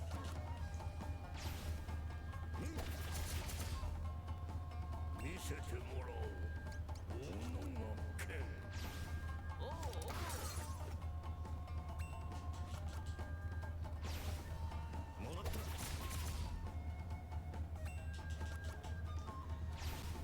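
Shuriken Barrage attack in the 2022 Switch release of Live A Live, Twilight of Edo Japan chapter: a flurry of repeated crashing, clattering hits spread across the stretch over continuous game music.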